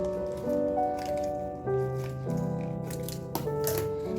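Pet food being mixed together with a little water into a damp mash: soft, wet squishing and squelching close by, in short irregular bursts over a faint steady tonal hum.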